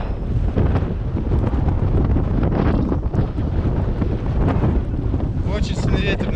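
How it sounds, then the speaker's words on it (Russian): Strong, roaring wind gusts on a mountain trail during a storm in Krasnoyarsk Krai buffet the microphone continuously, loud and close, with a harsh rushing texture throughout. "Очень сильный ветер наверху, нереально идти"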